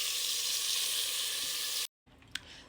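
A steak sears loudly in a hot pan, a steady bright sizzle that cuts off abruptly, then resumes more quietly with a sharp brief spike as the pan is moved.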